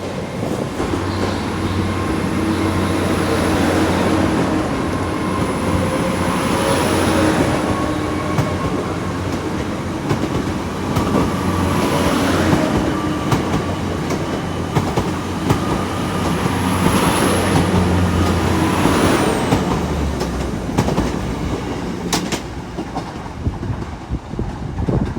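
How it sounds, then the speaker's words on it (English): An IET train departs Exeter St Davids station on a sunny afternoon: a loud, steady rumble with a high whine and rhythmic wheel clatter that eases off near the end. "Got the IET now going out as well."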